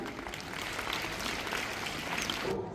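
Brief stretch of audience applause in a school prize-giving hall, a soft, steady rattle of many people clapping together for the toppers.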